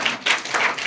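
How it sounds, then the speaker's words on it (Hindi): A burst of loud audience clapping rises in a few quick swells, close and brief, with no voices over it. "एक बार जोरदार ताली हो जाए।"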